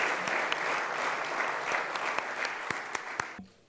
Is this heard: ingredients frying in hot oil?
no